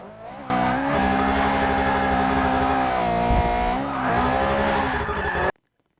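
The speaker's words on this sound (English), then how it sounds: "we got Forza Motorsport 6 on the Xbox One. As you can see, I did some drifting in this Miata" A Mazda Miata drifting in Forza Motorsport 6 on Xbox One, its engine holding a high, steady rev with tire squeal layered over it for about five seconds before cutting off abruptly.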